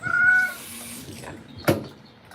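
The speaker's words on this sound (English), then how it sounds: "now you sound more like a ragdoll cat" A ragdoll cat meows during a grooming session, a clear drawn-out cry at the start followed by quieter fussing and a brief sharp sound, close to the mic with grooming noise around it.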